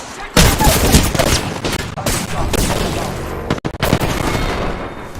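Loud, dense gunfire in the video game Apex Legends, overlapping shots and booming impacts filling several seconds with a brief sharp cutout near the end, continuous and close.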